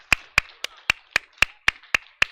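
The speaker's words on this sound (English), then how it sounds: "Can we all give a big round of applause, a big thank you to Paul Bunyan for putting on this show." Sharp, evenly spaced claps about every quarter second, close and distinct with silence between, clapped out during a gaming championship event with a crowd present.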